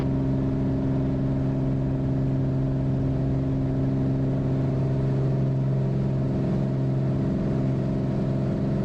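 Steady, loud engine drone from a small aircraft at takeoff power during its takeoff roll, a constant hum with strong low tones and no letup, heard from inside the cockpit.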